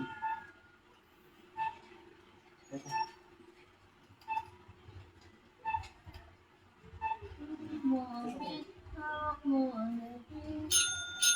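A dog taps a small bell with its paw, making a series of bright, clear dings at a steady spaced rhythm, each ringing out briefly, with people talking in the background.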